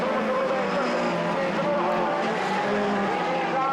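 Volvo 242 and big-engined Opel Corsa race cars battling in a rallycross event at Maasmechelen, engines roaring loud and continuous with tyre noise, a dense wall of racing sound throughout.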